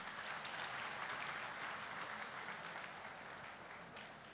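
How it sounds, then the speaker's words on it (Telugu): Seminar audience at a marketing associates' event applauds steadily, a dense, sustained wash of clapping that fills the whole stretch and eases off slightly toward the end. "మీకు రిక్వెస్ట్ చేసి చప్పట్లు కొట్టండి"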